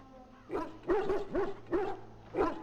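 A Mabari war hound in the game Dragon Age Origins barks four times in an even rhythm, sharp and close with short gaps between barks.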